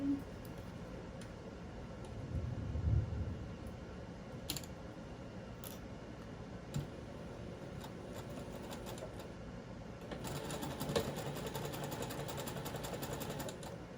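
Sewing machine stitching the side seam of a doll blouse, a faint steady mechanical whir with light clicks, running continuously and growing slightly busier toward the end.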